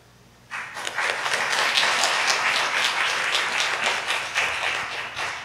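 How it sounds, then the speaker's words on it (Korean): Congregation applauding newly appointed evangelists at a church service, a dense, sustained burst of many hands clapping that starts abruptly and holds steady at close range. "박수 한번 더 쳐주세요"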